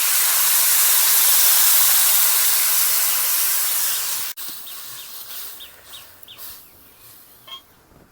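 Water poured into a hot pan of mustard-paste rui fish curry with raw mango gives a loud, steady hiss and sizzle that fades sharply after about four seconds, leaving quieter bubbling and faint clicks.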